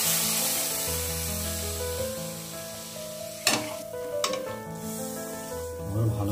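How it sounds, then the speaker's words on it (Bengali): Milk stirred into masala in a hot frying pan gives a steady close sizzle, with a couple of sharp scrapes midway, under quiet background music and no talking. "ভালো করে একটু নাড়বো।"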